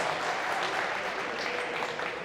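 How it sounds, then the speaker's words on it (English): Audience applause at a behind-the-scenes gathering at a recovery treatment center, a steady dense wash of clapping heard alone throughout. "Big round of applause."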